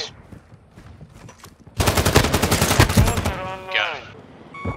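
Rapid turret machine gun fire from a vehicle in Call of Duty: Modern Warfare II, a dense loud burst that starts abruptly after quieter scattered shots, then a descending whine as it stops.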